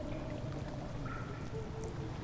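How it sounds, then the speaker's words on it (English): Water pours into a cistern in the horror game Amnesia: The Dark Descent, a faint steady gushing wash that runs alone without pause. "Oh, it's filling with water now."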